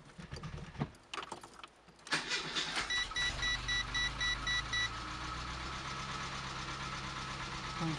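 A Renault 19 engine cranks and catches after a few seconds of fumbling noise, then settles into a steady, close idle with a brief rhythmic dashboard chime pulsing over it.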